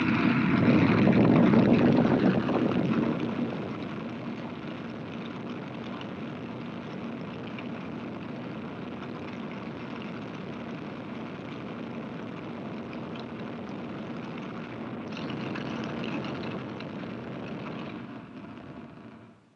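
A Rocketdyne F-1 rocket engine roars through a full-duration static test firing at Edwards, a loud broad rumbling blast that eases to a sustained distant roar and swells briefly again before cutting off.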